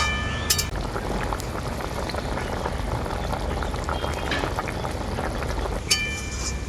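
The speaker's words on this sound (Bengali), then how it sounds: "এরপর আমি ঝোলটা খুব ভালো করে ফুটিয়ে নেবো" Soybean curry gravy with yogurt and tomato simmers in a pan, a steady close bubbling and popping with a couple of faint metallic clinks.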